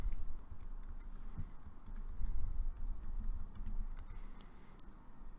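Fast, continuous typing on a computer keyboard, a steady patter of light clicks at close range over a low room rumble, with no voices.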